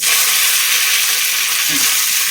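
Shallots and curry leaves frying in a pan for a prawn curry, a steady loud hiss and sizzle of hot oil lasting the whole moment, close and continuous with no talking.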